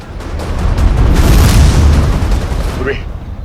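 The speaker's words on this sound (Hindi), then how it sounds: "एक गोली वहां से चली है, जरा जाके देखो।" A single heavy boom rolls out and rumbles for a couple of seconds, loud and low, with a faint voice near the end.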